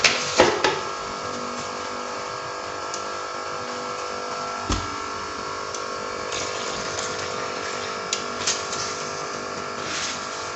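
Basmati rice tipped into a pot of boiling water, a steady bubbling and churning hum throughout with a few sharp clinks and taps, close and without talk.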